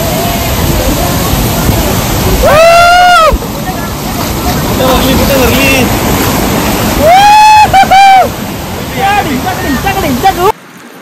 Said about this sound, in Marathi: धबधब्याचं पाणी जास्त असल्यामुळे रस्त्यावरती हे पाणी आलेलं आहे